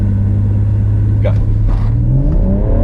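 A 2017 F20 BMW M140i with a ZF 8-speed automatic accelerates hard from a launch. The engine rumbles and revs upward steadily, heard close from inside, and a voice speaks briefly over it.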